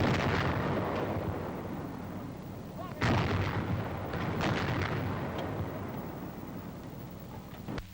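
A 90 mm antiaircraft gun firing, heavy booming discharges with a big blast near the middle, rumbling echo and wind noise between shots, heard from close by and fairly loud.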